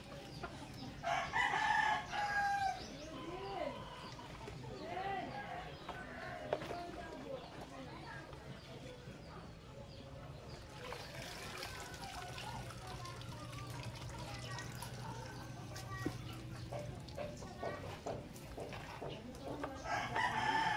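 Young roosters being bathed crow and cluck at moderate distance, with splashing water and people talking throughout.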